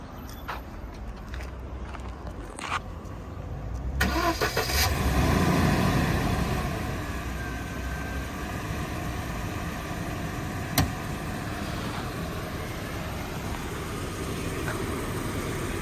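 A Mercedes-Benz C-Class engine turns over and starts partway through, swelling into a low rumble before settling into a steady idle.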